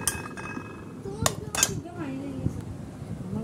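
Plates and spoons clink while home-cooked broken-rice pilaf is served: a few quick, sharp clinks of dishes and cutlery bunch together in the middle, with faint voices and household noise behind.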